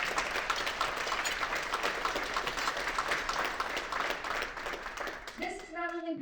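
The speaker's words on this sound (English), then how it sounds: "let's give a round of applause for that." Guests at a celebration dinner give a steady round of applause that fades near the end as a voice begins speaking.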